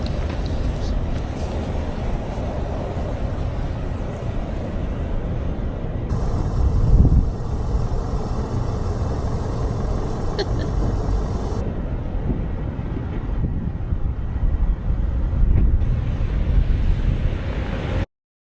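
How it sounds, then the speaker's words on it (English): Land Rover Defender driving on a snowy road: a steady loud rumble of engine and tires with constant wind and road noise throughout, essentially unbroken. "I love driving in the snow."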